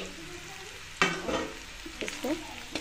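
Karela (bitter gourd) is fried with spices over a medium flame, a soft sizzle broken by a sharp scrape and several shorter stirring strokes, close and moderately quiet, with no talking.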